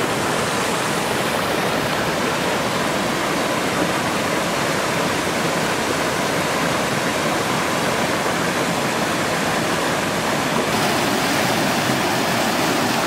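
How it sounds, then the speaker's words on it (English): A waterfall along a Delaware Water Gap trail pours in a constant, full hiss of rushing water, close and loud with no pauses or voices. "Here's a quick look at the waterfall."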